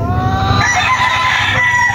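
Two-year-old gamecock roosters crow loudly and close, with a long sustained call ringing over other crowing and farmyard noise.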